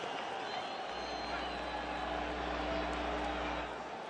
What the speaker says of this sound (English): a ripple of applause goes up around the stands